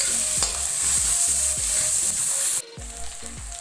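Fish oil sizzles and melts in a pan for an Assamese fish curry, a steady close fry with rhythmic stirring scrapes, briefly dropping quieter near the end.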